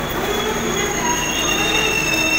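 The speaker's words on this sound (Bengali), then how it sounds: "আমাদের ট্রেন এখন এই মুহূর্তে এসে পৌঁছালো আমাদের যাত্রাপথের প্রথম স্টপেজ ভুবনেশ্বর" A train of LHB coaches rolls into Bhubaneswar station at night, its wheels grinding with a loud, sustained metallic squeal and a steady rumble close by.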